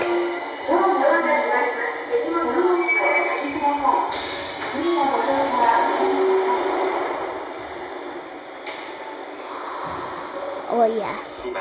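Tokyo Metro subway train running, a steady loud rumble and rail roar throughout with brief screeches, while people talk and exclaim over it close by.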